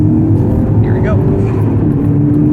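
Mk6 Volkswagen GTI with a K04 turbo upgrade pulling hard under load on a highway on-ramp, a steady loud engine drone heard from inside the cabin, with faint voice sounds over it.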